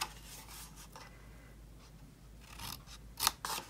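Scissors snip through cardstock along a score line, quiet close crisp cuts in several short bursts, the strongest near the end, with no one talking.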